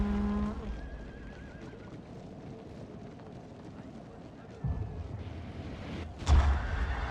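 Horses neigh and whinny on a Total War: Shogun 2 battlefield, one long whinny at the start over a steady rumble of battle ambience, with a louder burst of impacts near the end.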